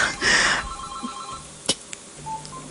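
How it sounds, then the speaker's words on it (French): A telephone rings during an evening radio call-in comedy show as a listener phones in, a short burst of ringing up front followed by a few faint clicks and tones, with no talk. "Je crois que nous avons encore un appel, Cathy."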